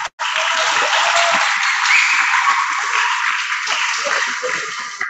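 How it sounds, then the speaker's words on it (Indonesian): An audience at a school OSIS student council candidate debate claps for candidate number 1, a dense, steady burst of applause that holds loud for about five seconds after a brief pause. "tepuk tangan untuk pas nomor urut 1."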